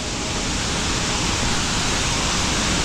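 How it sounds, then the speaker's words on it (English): A waterfall cascades down a canyon wall in Bali, producing a loud, unbroken broadband roar of rushing water heard close up with no other sounds. "the water's coming down. It's a little cascade thing, it's freaking loud."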